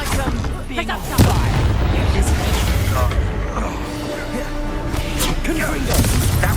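Incendio fire spell cast during combat in Hogwarts Legacy on PlayStation 5, a loud blasting burst with booming crackle, over steady game noise and voices talking throughout.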